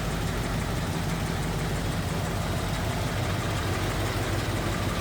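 A 1951 Ford F1 pickup's flathead engine with a Ford 2-barrel carburetor idles smoothly, a steady close-up low rumble that holds evenly throughout.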